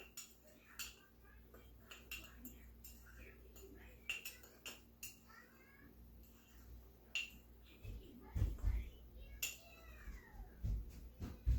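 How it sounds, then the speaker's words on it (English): Utensil stirring and clinking against a bowl while mixing sweetener into no-sugar-added freezer jam, soft scattered taps and scrapes, quiet and close, with brief speech and a meow. "And just stir them together."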